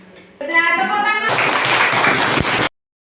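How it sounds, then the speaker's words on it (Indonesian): A group in a school classroom breaks into a short burst of clapping lasting about a second and a half after a voice speaks, then stops abruptly into silence. "Nah, tepuk tangan."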